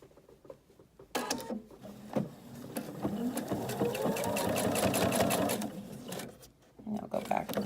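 A sewing machine stitches across the corners of a fabric pocket tissue holder: a steady, fast mechanical whirring hum running several seconds, starting and stopping with brief clicks, close by, with faint talk at the edges.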